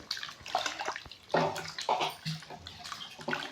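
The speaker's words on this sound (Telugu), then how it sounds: "ఇప్పుడు వాటర్ వేసుకున్నాక ఇలా ఒక్కసారి అంతా కలుపుకోవాలి" Liquid sloshing and swirling in uneven bursts close by, like ingredients being mixed through water.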